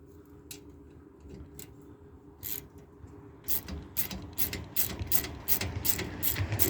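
A ratchet wrench turns a nut on the bearing hanger of a 1970s Tote Gote Model B, close clicking that starts sparse and faint, then speeds into quicker, louder runs of ratcheting.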